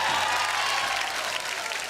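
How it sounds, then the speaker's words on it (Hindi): Audience applause at a folk music broadcast: a short burst of dense crowd clapping, loud and even throughout. "एक बार जोरदार तालियां।"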